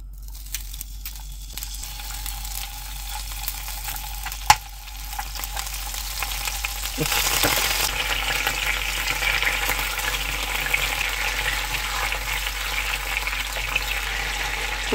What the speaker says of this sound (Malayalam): പാൻ ചൂടായ ശേഷം ഇതിലേക്ക് ബട്ടർ ഇട്ട് കൊടുക്കുക.